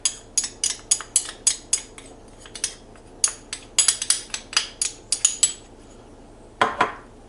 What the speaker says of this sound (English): We're going to start off by adding the flour to our milk.